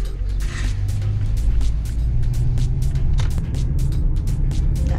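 A car climbing the winding mountain road up to Mount Buller, its engine a steady loud rumble from inside the cabin with no voices.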